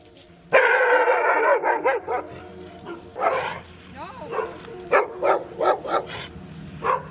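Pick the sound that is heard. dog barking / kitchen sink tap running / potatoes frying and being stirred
dog barking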